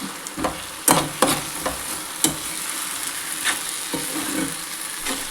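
Tomatoes cooking down in a pan for a tomato egg curry, stirred in quick bursts of scraping and clatter over a soft, continuous sizzle, close up with no voices.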